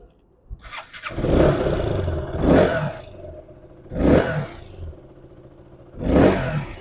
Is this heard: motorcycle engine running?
yes